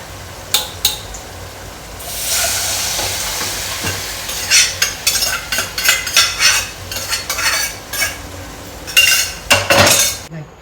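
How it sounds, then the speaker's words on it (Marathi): Mustard seeds and spices sizzle in hot oil for tempering dal while a spoon clinks and scrapes against a pot in quick irregular bursts, close by. "चला पटकन आता डाळीला फोडणी देते"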